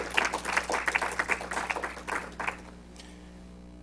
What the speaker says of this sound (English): Another round of applause to all of the contestants that participated today.